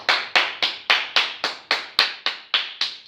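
A single person's hands clap eleven times in a steady, brisk rhythm, each clap crisp and close with a short room decay, no voices.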